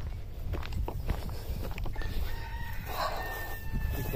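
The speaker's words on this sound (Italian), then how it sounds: "Ci sono anche, sì, ci sono anche i galli," Roosters and chickens outdoors, faint crowing and clucking over a busy background of rustling and movement, fairly distant and low in level.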